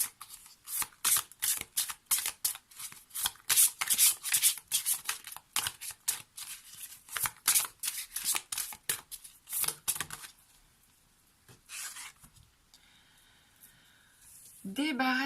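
Close, crisp riffling and slapping of inspiration cards being shuffled in repeated bursts for about ten seconds, then quiet handling; someone speaks in French.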